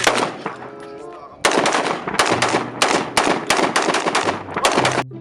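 A toy M4 gun rattles off its electronic shooting effect, loud rapid bursts of repeated shots in several volleys separated by short pauses, close to the ear with no talking during the firing.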